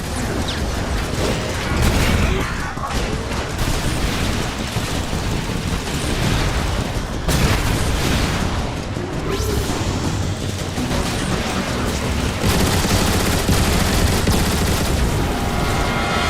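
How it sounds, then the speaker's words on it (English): Heavy gunfire, explosions and mechanical weapon noise from the video game Transformers: War for Cybertron, with homing rockets in the mix, form a loud, continuous barrage of booms and rattling shots with no pauses. "Homing rockets! Take cover!"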